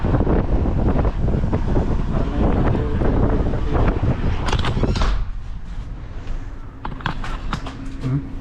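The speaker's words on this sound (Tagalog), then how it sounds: "Lakas ng hangin." Strong wind during a snowstorm in Welland, Ontario, roars loudly and continuously against the microphone, with heavy low-end buffeting that eases slightly partway through and then continues gusting.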